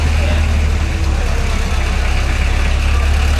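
A vintage tractor's single-cylinder diesel engine with evaporative water cooling and 8 horsepower runs close by, producing a loud, steady, unbroken drone with a heavy low rumble.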